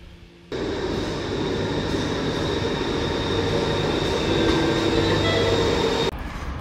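Paris metro train running through a tunnel, a loud continuous rumble and rattle of wheels with a faint squeal, steady throughout and cut off sharply near the end.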